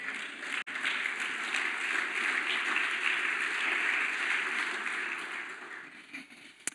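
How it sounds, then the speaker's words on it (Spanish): A church congregation applauds in a steady, full wash of clapping that holds for several seconds before tapering off. "Por esta respuesta de Jesús se merece un gran aplauso."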